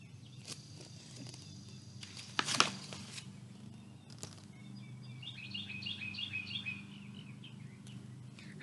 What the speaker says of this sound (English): you're hearing all kinds of trucks drive by or the birds singing